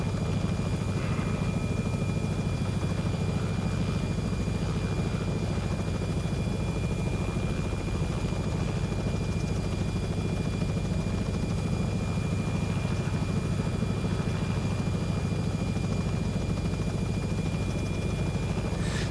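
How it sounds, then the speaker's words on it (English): Robinson R66 helicopter in the X-Plane 11 flight simulator, a steady, loud turbine and rotor drone that holds constant throughout with no breaks and no voices. "I'm trying to fly the helicopter at the same time"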